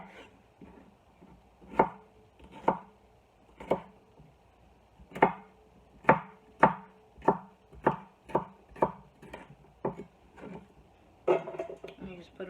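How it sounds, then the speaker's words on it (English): Vegetables for a no-cook salsa being chopped on a board, sharp irregular knife knocks that quicken into a steady run of cuts, close and clear, with a person talking at times. "we're just going to chop these up"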